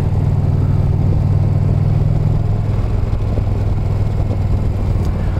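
A 2020 Indian Challenger motorcycle engine drones steadily while riding at low revs, a constant deep rumble mixed with wind noise and no speech.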